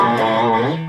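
Electric guitar played through an amplifier on its distortion setting, a single sustained, gritty chord ringing loud and close and slowly fading over under a second.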